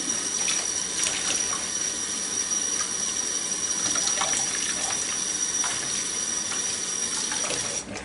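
Tap water runs steadily into a sink, rinsing the stainless steel and plastic parts of a disassembled Waring food slicer; a close, continuous rushing splash with no voices.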